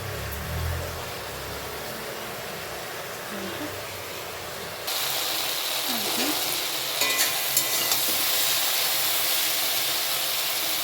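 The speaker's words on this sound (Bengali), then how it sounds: "ভেজে নেব।" Loud broadband sizzle of food frying in a pan with cumin and ginger paste, hissing steadily and growing louder halfway through as more goes in, with occasional stirring clinks and a voice talking early on.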